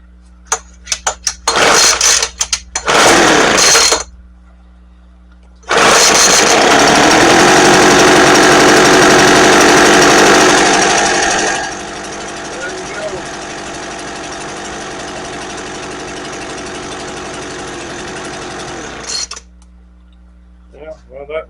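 A 200 mph Poulan Pro handheld leaf blower runs after a carburetor and fuel line replacement: several sputtering start attempts, then a loud, steady buzzing engine that drops to a lower, rougher idle before cutting off.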